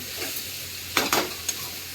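Spiced food being mixed and fried in a pan, heard as a few quick, close scraping stirs over a steady sizzle.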